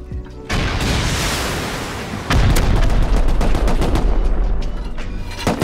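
Loud, sustained gunfire in the video game Rust, dense rapid shots with booming blasts, then a sharper, louder stretch after a heavy rocket impact, continuing as a near, relentless barrage.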